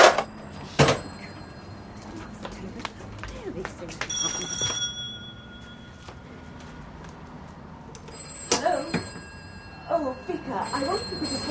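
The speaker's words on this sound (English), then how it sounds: "Yes, the telephone's ringing." An old-fashioned telephone bell rings in short bursts indoors amid shuffling and movement, fairly faint and intermittent across the scene.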